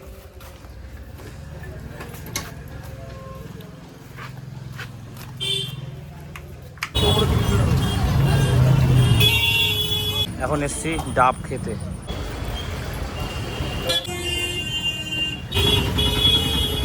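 Busy market street with passing traffic, a distant horn early on, then louder close vehicle noise and honking as someone speaks over the din.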